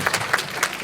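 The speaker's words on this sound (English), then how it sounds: "Let's give them a clap." Audience at a company annual general meeting giving a short, sparse round of claps, a few separate hand claps scattered across under a second, fairly close and light.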